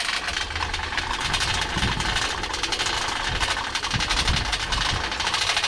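A Nissan VG33 engine idles at a junkyard with a dense, rattling clatter, steady and fairly loud throughout, with no talking.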